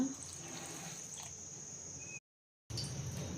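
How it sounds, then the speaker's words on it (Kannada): Water trickles steadily into a mixer jar holding spices and chilli powder for radish sambar, a close, quiet pour that stops briefly and then resumes. "ಸ್ವಲ್ಪ ನೀರು ಹಾಕ್ಕೊಂಡು ರುಬ್ಕೊಳ್ಳೋಣ."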